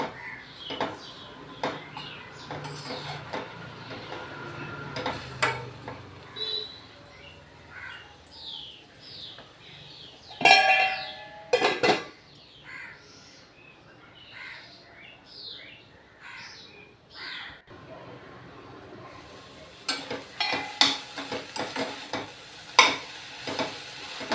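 Ponnaganti greens fry in a pan as they are stirred now and then, a soft sizzle broken by scraping and clattering stirs that grow louder in bursts, with faint bird calls in the background and no talking.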